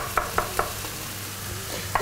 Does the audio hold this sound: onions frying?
yes